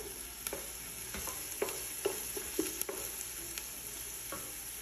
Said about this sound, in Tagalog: Kailangan lutuin natin yung sibuyas para yung amoy niya,